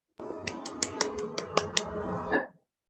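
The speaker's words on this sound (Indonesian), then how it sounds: "Tepuk tangan untuk Mas Indra." A single person claps for a student during an online third-grade class, about eight crisp, evenly spaced claps close to the microphone, then silence.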